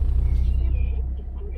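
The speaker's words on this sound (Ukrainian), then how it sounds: "Так, їдемо машиною." Steady low engine rumble of a car on the move, filling the whole clip at a constant, close level with no voices.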